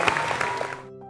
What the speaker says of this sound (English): Big clap for Bailey, everyone.